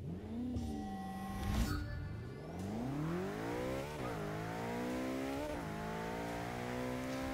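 A McLaren 650S in Forza 6 launches down a quarter-mile strip. A close engine note climbs through rising gears, with a brief burst of tire noise near the start, then pulls hard at steady high revs.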